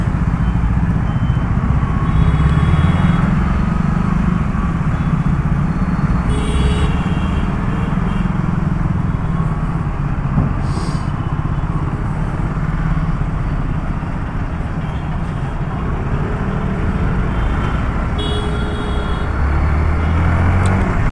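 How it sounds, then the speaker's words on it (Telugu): Road traffic with buses and other vehicles passing close by, a steady loud engine and tyre rumble that swells and fades over about twenty seconds, heard from a moving motorcycle. "ఏంద్రా బాబు, ఎన్ని బస్సులు ఉన్నాయి?"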